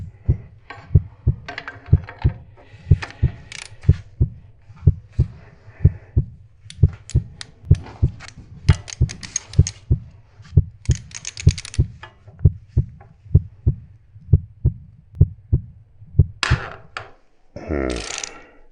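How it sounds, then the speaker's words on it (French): A ratchet wrench working on a stuck glow plug in a Renault Kangoo, giving rhythmic, evenly spaced clicking bursts, close and loud, with metallic rattles toward the end. "Et là je me lance avec ce cliquet, et est-ce que ça va passer ou pas?"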